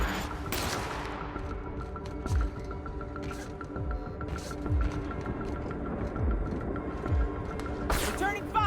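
Repeated gunfire bursts and heavy thuds from a sci-fi shooter game firefight, punctuated every couple of seconds over a steady bed of game ambience and music, with a voice talking now and then.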